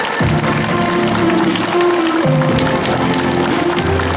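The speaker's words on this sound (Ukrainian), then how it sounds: "Давайте ще раз їх оплесками зустрінемо наших наймолодших учнів" Audience applause welcoming the youngest pupils at a first-bell school ceremony at a lyceum in Dnipro, steady loud clapping from a crowd throughout, with a sustained musical tone running underneath.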